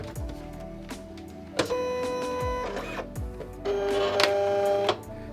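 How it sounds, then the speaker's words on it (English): A vinyl cutter cutting a stencil from thin vinyl, heard as close electric motor whines and buzzing carriage moves broken by sharp clicks, running in short bursts with no talk. "let's print from my vinyl cutter right now"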